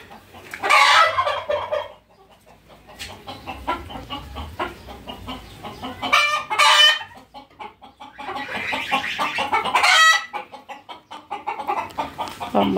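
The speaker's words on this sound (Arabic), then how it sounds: "قلت لي لما تسمعوا صياح الديك قول اللهم اسألك خير" A rooster in a backyard chicken coop crows loudly several times, with hens clucking and fowl chattering nearby between the crows.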